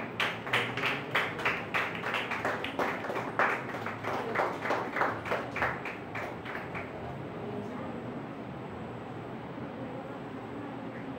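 A church audience claps in rhythmic unison to welcome a pastor to the stage, a steady series of loud group claps that fades into roomy background noise after about seven seconds.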